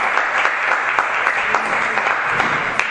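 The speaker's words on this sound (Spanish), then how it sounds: "le damos un fuerte aplauso al profesor." Steady crowd applause for a professor, dense and sustained throughout at close range, with a faint voice barely present underneath.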